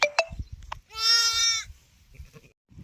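A single close, drawn-out bleat rises out of soft background noises and a few short clicks, then fades back to quiet rustling.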